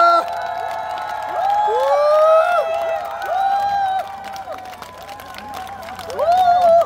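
A festival crowd at an outdoor trot concert during the Gimhae Hanwoo beef festival cheers, whoops and applauds in loud, uneven swells, with individual high shouts rising above the noise.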